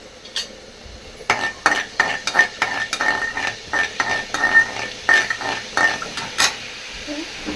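Fennel seeds spluttering in hot oil for a suvarotti dish: a rapid, irregular run of sharp close pops and crackles with a faint sizzle underneath.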